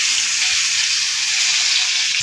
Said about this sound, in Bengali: মাছের ডিম এমনি বড়া ভাজলে বা তেল দেওয়া তেল ছিটকায়, ডিমটি ফুলে।